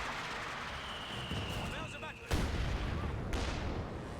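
Artillery barrage in the Company of Heroes 2 strategy game, with a sharp heavy blast partway through and another impact later, amid continuous battlefield rumble and a faint whistle, while a commentator talks over it.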